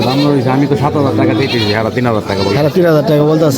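Goats bleat in wavering cries at a village goat market in Bangladesh, buried under loud, close voices haggling over prices.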